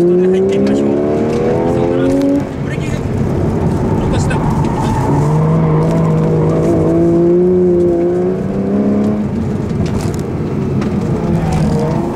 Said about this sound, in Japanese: ブレーキングドリフトで入ってみましょう。